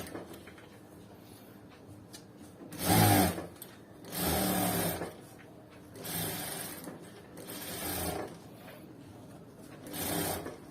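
A sewing machine stitching piping onto a blouse, running in five short bursts of about a second each, separated by brief pauses, close and moderately loud with no talking.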